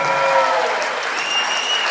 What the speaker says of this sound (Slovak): Páne dámy, poprosím obrovský potlesk